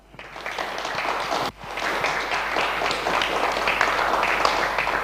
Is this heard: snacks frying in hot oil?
no